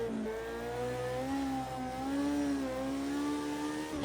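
A Bac Mono race car in a Bathurst time-trial sim howls as it accelerates along the track, its engine note climbing steadily and loud through the revs with no talking over it.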